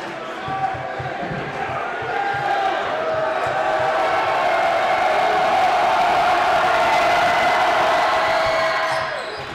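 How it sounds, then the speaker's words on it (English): A basketball crowd's student section roars loudly and steadily at a Mount Pleasant boys varsity game against Fairfield, building into sustained cheering and yelling that fades out near the end. "Mount Pleasant student section is getting pretty loud"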